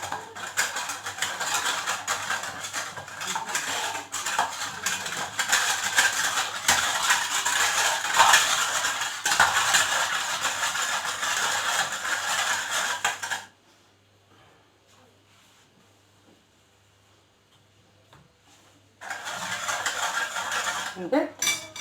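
Cake batter being mixed in a bowl for a fluffy chocolate-cream cake, with steady clinking and scraping of utensil against the bowl, loud and continuous, pausing into near silence before resuming.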